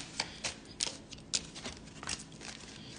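Tarot cards being shuffled by hand, a quick series of soft riffling bursts and papery slaps in an irregular rhythm, close and fairly quiet, with no voice.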